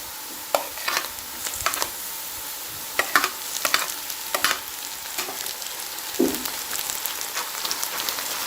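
Chopped tomatoes sizzle and fry with onions and potatoes in a pan for an Afghani omelette, a steady crackling hiss broken by a run of sharp scraping stirs and clinks, with no one talking.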